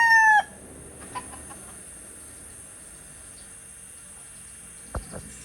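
A pet rooster crows once close by at the very start and then falls silent, leaving a quiet yard with a steady hiss and a couple of faint short clucks near the end.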